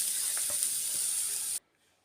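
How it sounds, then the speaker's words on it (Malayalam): Grated coconut, shallots and curry leaves frying in coconut oil for Kerala-style bitter gourd theeyal, a loud, close, steady hiss and crackle that cuts off abruptly into near silence. "കുറച്ച് വെളിച്ചെണ്ണ ഒഴിച്ച് നമുക്കിതൊന്ന് വറുത്തെടുക്കാം."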